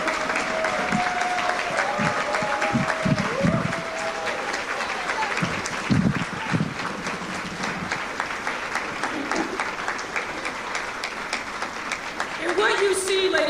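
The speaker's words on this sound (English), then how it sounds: "please stand and please give them a round of applause" A room of brunch guests applauds standing elected officials at an LGBTQ Victory Fund event in Chicago, sustained crowd clapping with a voice speaking over it and brief whoops rising near the end.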